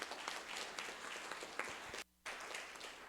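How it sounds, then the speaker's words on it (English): An audience at a 2023 candidate forum applauds the candidates with sustained, fairly soft clapping from across the room, broken by a brief drop-out. "And can we have the applause for our candidates?"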